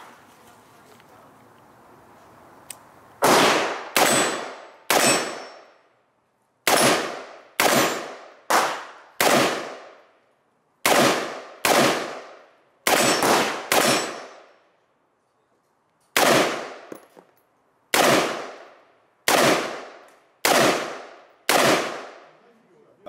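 Loud, close 5.56 rifle fire at steel targets: about seventeen sharp cracks, each with a ringing metallic clang, come in quick irregular bursts after a few seconds of quiet.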